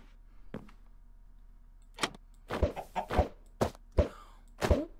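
Chickens clucking in Minecraft, a string of short, sharp clucks and bawks arriving in irregular bursts against a faint low hum, quiet at first and then clustering closer together.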